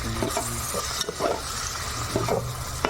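Tomatoes sizzling and frying in a pan while being stirred, with steady crackle and repeated scraping strokes of a utensil close by.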